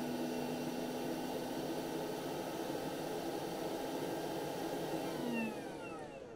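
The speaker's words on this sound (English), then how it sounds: "you can put it in the cradle, and the fan speeds up to cool down the heating element" An Atten ST-862D 1000W hot air station fan blows in its cradle to cool the heating element, a steady close rushing whoosh that slows near the end as the fan winds down.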